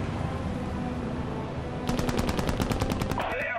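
Rapid machine-gun bursts in the strategy game Global Conflagration skirmish, a steady rattling stream of shots over dense battle noise and rumbling vehicles, with a short sharp burst standing out near the end.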